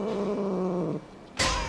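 Tula the cat in Hades 2 gives a short meow near the start, followed after a brief gap by a sharp burst of game sound.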